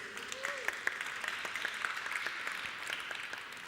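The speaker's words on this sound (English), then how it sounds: "please a round of applause for the jury" Audience at a design event applauding the jury, a steady moderate round of clapping with a few sharper individual claps standing out.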